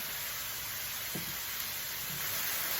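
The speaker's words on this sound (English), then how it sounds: "We're going to let this saute for another 5 to 10 minutes until these veggies are soft." Vegetables sautéing in a pan with salt, oregano, cayenne, cumin, garlic powder and cinnamon, a steady soft hissing sizzle throughout, with a couple of faint low knocks.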